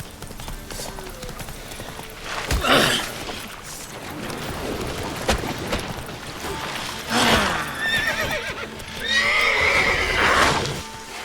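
Roach, the horse in The Witcher 3, gallops with rapid hoofbeats and gives several loud neighs and whinnies, while faint voices speak in the background.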